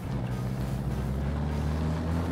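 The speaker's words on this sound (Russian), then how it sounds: "Ну, выхлоп, звук выхлопа." Rotary engine exhaust of a Mazda RX-7 FD3S, a steady low droning rumble with wind buffeting, sustained and fairly close throughout.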